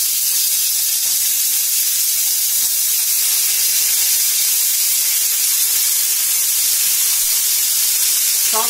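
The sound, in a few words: chopped onions frying in hot oil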